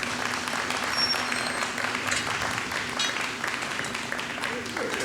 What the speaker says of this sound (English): How about a big round of applause for the team?